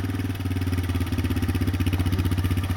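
A Honda Big Red three-wheeler engine starts and runs close by, giving a loud, steady, pulsing putter that continues evenly throughout.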